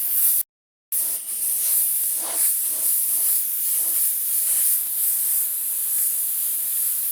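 An airbrush sprays Wicked Detail White paint in a steady, close hiss that breaks off once for a moment near the start, then continues evenly.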